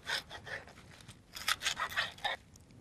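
Green lettuce leaves being cut into thin strips with a knife, a run of short crisp slicing bursts, some in quick succession, close and fairly quiet, with no talking.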